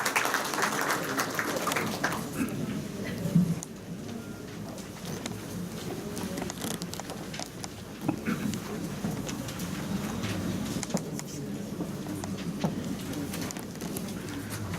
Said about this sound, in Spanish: Solicitamos un fuerte aplauso para el doctor Jean-Paul Taboada Pilco, por favor